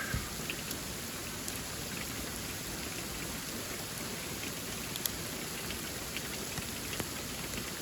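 Steady rain pours down outside an RV with a dense, even hiss, small sharp ticks of hail scattered through it, no voices.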